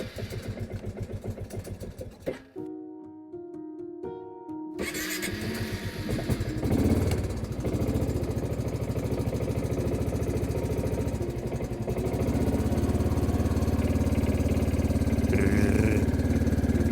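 A newly bought ATV engine cranks with a short starter burst, then fires and settles into a steady, loud, close idle that runs on continuously, with no speech.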